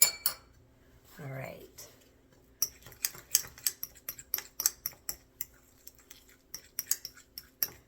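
Fork tines scraping the last of an avocado hydrating face-mask mixture from a bowl, a run of short, sharp metallic clinks and scrapes in quick irregular succession, fairly close, with a brief spoken word early on.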